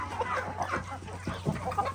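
Chickens clucking steadily inside a henhouse on a small farm, several hens close by making overlapping short clucks and calls in an irregular, busy rhythm over a constant low hum.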